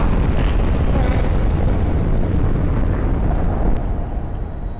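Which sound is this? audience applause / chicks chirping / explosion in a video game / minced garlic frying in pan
explosion in a video game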